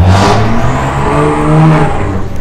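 A car engine on a 5.0 Mustang-type street car revs loud and close, a steady rising whir holding for about two seconds, with no talk.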